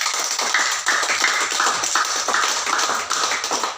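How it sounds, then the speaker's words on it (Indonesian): Group applause at a morning meeting of a drug rehabilitation foundation, a dense steady patter of many hands clapping close by for about four seconds with no voices. "Berikan tepuk tangan untuk sesi ini."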